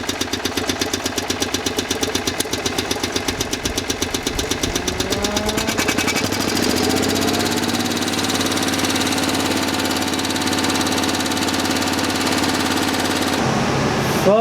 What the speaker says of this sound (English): Fuck yeah, so the generator works.